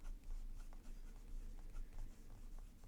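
A Pilot fountain pen with a rounded stock stub nib scratches across paper, soft steady strokes with small rhythmic taps, faint and very close.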